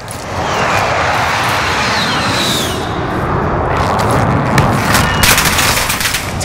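Sustained automatic gunfire in Call of Duty Modern Warfare, dense rattling bursts with heavy booms and a passing aircraft drone, loud and continuous throughout, with no pause in the barrage.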